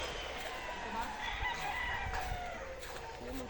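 Rooster at a gamefowl farm crowing among a steady wash of other fowl clucking and crowing, the calls rising out of constant farmyard bird noise for the whole stretch.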